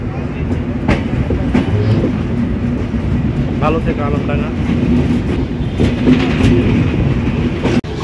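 The Chitra Express passenger train rolling on rails after leaving Alamdanga station, heard from on board as a steady loud rumble with rhythmic wheel clicks and rattles, while someone speaks briefly.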